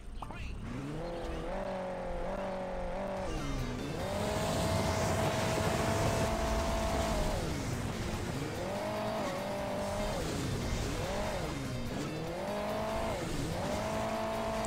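A racing car boosted by nitro in the mobile game Hill Climb Racing 2 revs continuously, its engine pitch climbing and dropping in repeated surges as it accelerates and eases off, steady and close.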